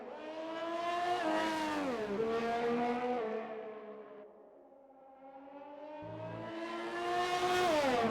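A Ferrari race car engine in a racing video game at the Azerbaijan Grand Prix, a high-pitched engine note rising through gears, dipping and fading, then climbing loudly again.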